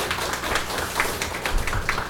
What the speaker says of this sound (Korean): 먼저 세 분 뜨거운 박수로 여러분 환영해 주시죠.